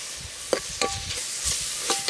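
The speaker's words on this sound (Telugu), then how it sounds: "ఈ టమాటా ముక్కలు కూడా 2-3 నిమిషాలు బాగా వేగాక" Tomato pieces and green chillies fry in a pan with a gentle sizzle while a spoon stirs them, producing several quick scraping clicks and taps at close range over a soft background hiss.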